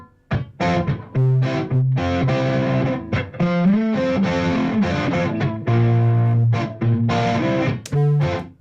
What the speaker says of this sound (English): here's the other guitar pan to the right. Delay and reverb.